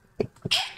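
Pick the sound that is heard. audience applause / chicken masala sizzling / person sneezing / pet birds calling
person sneezing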